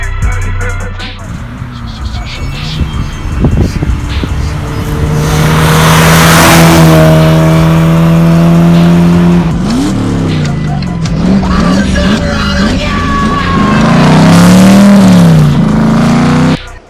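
An Austin Mini engine, just after carburettor and ignition adjustment, idles and then is revved loudly in several rising and falling bursts, heard close and alone.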